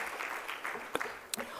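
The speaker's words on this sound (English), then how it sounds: "Can we please give him another round of applause" Applause from a Dutch Caribbean airports conference audience, a moderate wash of clapping with a few louder, nearer single claps standing out near the end.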